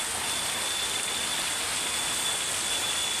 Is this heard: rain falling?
yes